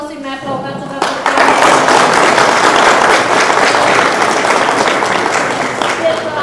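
At a local council meeting, a crowd bursts into loud, sustained applause, many hands clapping steadily for several seconds after a brief spoken moment.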